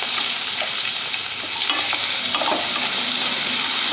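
Onions and green chillies fry in a pan for a jolada rotti oggarane, giving a continuous close sizzle with a few light stirring scrapes; no talking.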